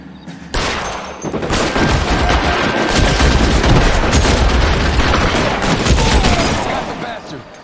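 Sustained heavy gunfire from a shootout in the video game L.A. Noire, dense overlapping shots and booms rolling continuously for several seconds at high volume, with faint voices mixed underneath.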